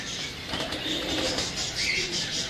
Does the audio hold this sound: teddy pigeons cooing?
yes